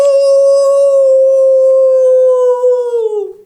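A storyteller imitates a coyote howling with the voice: one long, steady, loud tonal howl held for about three seconds, then sliding down in pitch as it fades out, with no other talk.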